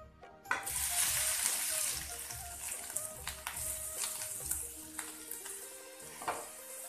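Grated carrots fry in a pan for gajar halwa, producing a soft steady sizzle broken by scraping stirs and light clinks of a spoon against the pan.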